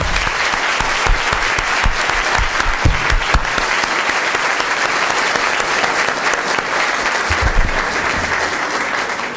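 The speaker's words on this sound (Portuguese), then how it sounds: "E eu gostaria de pedir uma salva de palmas para o senhor ministro." An audience at a pro bono public hearing gives the departing minister a loud, sustained round of applause, a thick, steady roar of clapping from many hands that holds for several seconds with no voices over it.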